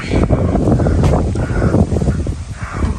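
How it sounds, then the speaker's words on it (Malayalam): Wind blows hard outdoors at a Kerala tourist spot, buffeting the microphone with a loud, continuous low rumble throughout. "നല്ല കാറ്റുണ്ട്."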